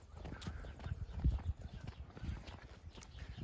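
A mare's hooves clip-clop steadily on hard ground at close range, a repeating walking rhythm of knocks with no talking.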